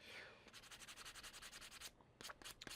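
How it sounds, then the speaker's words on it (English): Quiet, rhythmic strokes of sandpaper lightly sanding a fingerboard back and forth, a rapid series of light scratchy passes close by. "A nice light little sanding."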